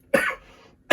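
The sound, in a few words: cough from allergies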